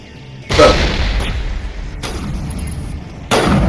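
Gunfire from the video game Mass Effect Legendary, with a loud blast at the start, a sustained rumbling tail, and another sharp shot near the end.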